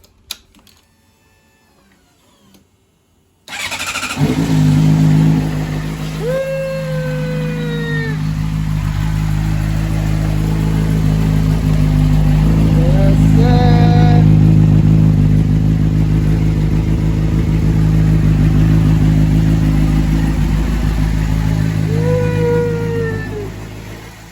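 A Honda CBR motorcycle engine cranks and catches after a short quiet pause, then settles into a loud, steady close-up idle that runs on with a few small throttle blips.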